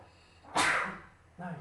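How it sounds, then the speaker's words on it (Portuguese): A single sharp sneeze bursts out, close and loud, followed by a brief breath or murmur. "Espirrei aqui."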